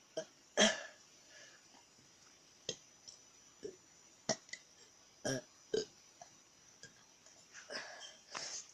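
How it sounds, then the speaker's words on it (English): A series of burps, some loud and abrupt, others shorter and softer, spaced irregularly across a quiet indoor background. "I like my burps."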